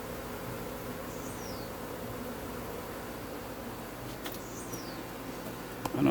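A swarm of Africanized honey bees on a wall gives a faint, continuous buzzing hum, with individual bees occasionally flying close by and a brief rustle near the end.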